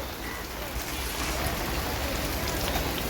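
Heavy rain pours over an outdoor market in Panvel, a dense, even hiss of drops hitting surfaces that holds steady throughout.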